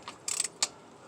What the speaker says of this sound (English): The old cheap breaker bar ratchet